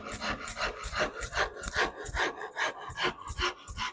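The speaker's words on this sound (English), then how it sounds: "And I'm in here with my down and dirty rasp again." A coarse wood rasp is stroked back and forth along a wooden guitar neck during carving, with steady, rhythmic scraping passes about every half second, close and fairly loud.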